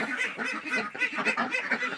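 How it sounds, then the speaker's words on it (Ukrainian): Two ducks joining a flock, quacking and honking loudly and close by in rapid repeated calls, with no other sounds. "Наробили шуму качки, звичайно, дві качечки, а шуму стільки, що їх не перекричати зараз."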